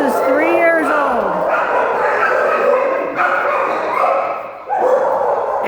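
A gray dog in a kennel at the Cuyahoga County Animal Shelter gives a few close yips and whines, with a person talking over and between them.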